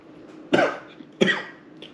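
Two sharp, harsh coughs from one person sound close by, about half a second apart, followed by a faint throat noise, with no talking.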